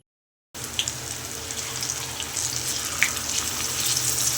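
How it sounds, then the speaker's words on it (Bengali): Paneer pieces fry in hot oil, a steady broadband hiss and sizzle that starts abruptly after a brief silence and holds fairly loud throughout, with a few small pops. "এখন সব এক এক করে ভেজে নেব।"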